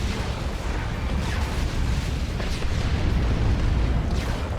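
Rocket run explosions in the strategy game Dawn of War 2, an Imperial Guard versus Tyranids match, form a dense rumbling barrage of booms and bursts, loud and continuous throughout with no voices.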